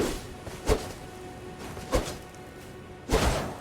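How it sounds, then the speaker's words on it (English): Three sharp, thudding sword swings from the Elden Ring video game, evenly spaced and fairly loud, each a brief whooshing impact over a faint steady background tone. "look at the sound of the sword"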